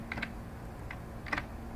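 A few quiet keystrokes on a computer keyboard as a password is entered, in small clusters of taps with short pauses, close and soft.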